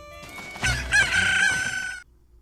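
Cuccos from The Legend of Zelda video game let out a loud, bright rooster-like crow with clucking beneath it, ending abruptly in a game sound effect with no talk.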